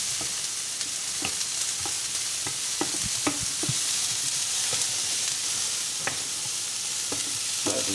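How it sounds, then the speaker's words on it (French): Onions sautéing in a pan for nachos, a continuous hissing sizzle with occasional soft clicks of stirring, close and steady, with no talking. "vous faites revenir vos oignons"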